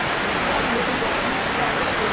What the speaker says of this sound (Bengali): প্রচুর বৃষ্টি হচ্ছে, অজোরে বৃষ্টি হচ্ছে